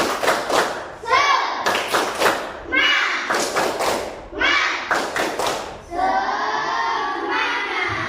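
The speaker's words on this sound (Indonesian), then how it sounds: "coba tepuk semangat" Schoolchildren in a fourth-grade classroom perform a rhythmic clapping cheer, loud bursts of claps and shouted chanting repeating in quick patterned groups, ending in a sustained group shout.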